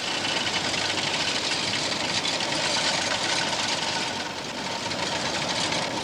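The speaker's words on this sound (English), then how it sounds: "This is the rimming machine." A coin rimming machine rolls and squeezes metal blanks through a channel, giving a steady, dense mechanical whir and rattle that runs continuously at even loudness.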